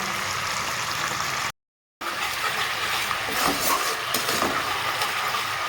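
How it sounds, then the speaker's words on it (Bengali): A sauce with chili powder, salt and turmeric is stir-fried in a pan, giving a continuous close sizzle with stirring scrapes that drops out briefly to silence and then resumes, with no voices. "সসটাকে সুন্দরভাবে কষে নিয়েছি"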